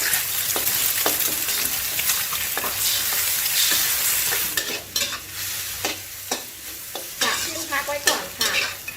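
Beaten eggs stir-fry in a wok thinly coated with oil, sizzling loudly while a utensil scrapes and taps the pan in irregular strokes, with no talking.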